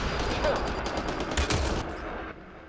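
Rifle gunfire during combat with raiders in the video game Mass Effect, rapid bursts of shots over a loud, busy battle mix that fades toward the end.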